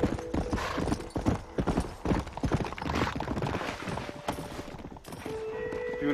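Horse hooves clip-clopping steadily in the Red Dead video game, a busy rhythmic patter of hoofbeats close by with a brief whinny, some game noise mixed in.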